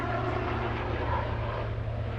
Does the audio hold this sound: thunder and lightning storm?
no